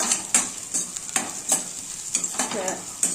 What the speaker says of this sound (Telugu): కొంచెం వెల్లుల్లి, కొంచెం ఎండుమిర్చి, కొంచెం కరివేపాకు వేసుకొని అన్నీ బాగా ఫ్రై చేసుకోవాలి